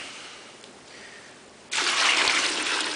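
Boiling hot water gushes from a container onto a circular saw blade soaking for cleaning, a sudden loud steady pour after a faint trickle.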